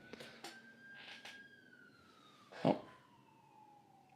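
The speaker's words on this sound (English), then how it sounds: "if you picked that up, that was a police siren" A distant siren wails with a steady falling tone in the background, faint, with a few brief knocks and thumps over it.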